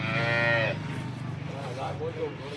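A cow lets out one loud, drawn-out moo up close, then quieter lowing and barn noise continue in the background.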